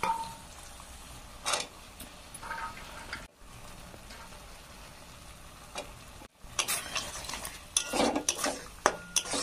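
Green peas tipped into a pan of simmering curry, light sizzling under clinks and scrapes of a spoon against the pan, with a burst of busier clatter and stirring toward the end.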